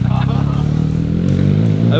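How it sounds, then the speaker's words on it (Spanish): A motorcycle rides off, its engine note rumbling and revving steadily close by while someone talks excitedly over it. "Está muy perra esa moto"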